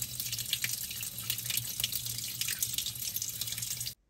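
Steady stream of water pours onto a plate set in a sandy axolotl aquarium, a continuous close splashing gush that runs alone for about four seconds before cutting off abruptly.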